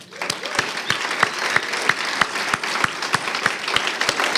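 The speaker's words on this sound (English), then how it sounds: "So how about we give our teachers and staff a round of applause as well." Audience applause at a school talks evening for teachers and staff: a steady crowd clap with one close, loud clapper beating a regular rhythm above the rest.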